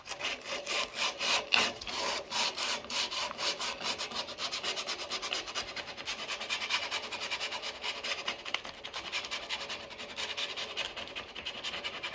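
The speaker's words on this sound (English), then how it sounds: "I didn't sand a lot because I didn't want to remove a lot of extra paint" Sanding touch-up paint flat on a painted wooden block in a toy house, a close, rapid rhythmic rubbing and scraping stroke after stroke, steady and continuous with no talk.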